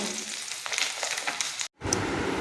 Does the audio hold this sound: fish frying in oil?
yes